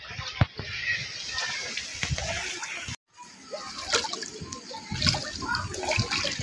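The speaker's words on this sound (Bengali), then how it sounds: "জলের মধ্যে চলে এসেছি, জল আর জল।" Water sloshing and splashing as someone wades through floodwater after Cyclone Remal in heavy rain, a steady close wash with a brief break midway.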